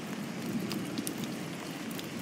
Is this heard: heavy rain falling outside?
yes